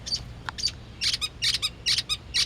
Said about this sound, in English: You hear that bird in the background?